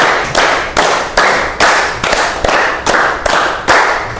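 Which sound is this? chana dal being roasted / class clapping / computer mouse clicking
class clapping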